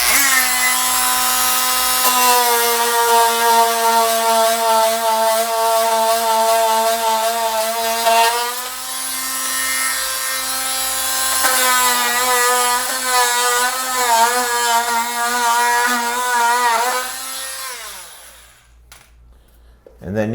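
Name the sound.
Dremel rotary tool cutting off wooden window shims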